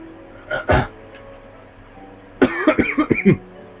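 A person with strep throat coughs up close: a couple of short coughs, a pause, then a quick run of several harsh, rasping coughs.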